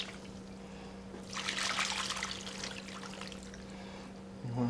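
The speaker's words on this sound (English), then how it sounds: "Now we just put the marinade in there." Marinade poured over pork for Hawaiian smoke meat, a close, steady watery splash and trickle rising after a quiet start and running for several seconds, with a low constant hum underneath.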